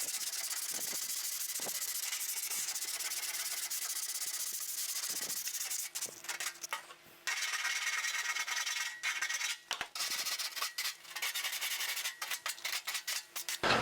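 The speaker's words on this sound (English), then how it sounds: "So we sanded this all up nice to get that metal clean." Sandpaper rubbed by hand over a steel patch panel gives a steady, close, gritty rasp of continuous strokes that breaks into shorter, choppier passes with brief pauses toward the end.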